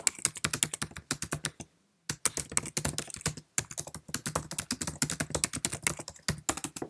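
Rapid keystrokes on a Mac computer keyboard, close and crisp, in quick irregular bursts with one short pause partway through, and no voices.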